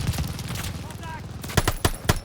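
Rapid bursts of automatic machine gun fire in Call of Duty: Vanguard pop in quick succession over a low droning background, with a brief voice-like tone in the middle.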